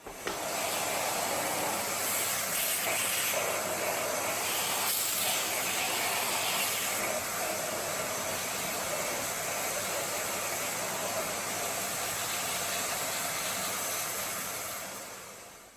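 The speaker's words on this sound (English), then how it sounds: "Just go around and vacuum that out." A vacuum cleaner sucks loose bits out of a mould made on a sheet of polypropylene, giving a steady loud hissing roar that runs unbroken for about fifteen seconds before trailing off at the end.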